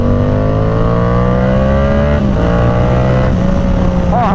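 A Yamaha R7 motorcycle engine pulls hard and loud up close, its pitch climbing steadily through the gears with brief dips at shifts and a final rising wail.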